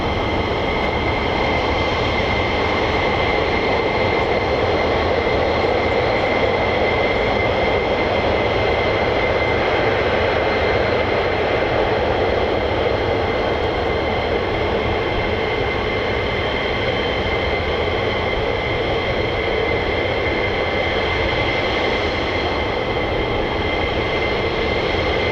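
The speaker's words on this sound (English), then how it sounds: "These F-15E Strike Eagles" F-15E Strike Eagle fighter jets at RAF Lakenheath, a loud, steady jet engine roar holding without a break, with tonal whine layered over broadband rumble and no voices.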